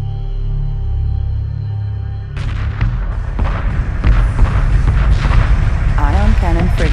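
Sci-fi space battle weapons fire in Homeworld 2 Remastered, a mission with ion cannon frigates: a low droning hum gives way to a dense barrage of booming blasts and crackling shots, with rising whooshing tones near the end.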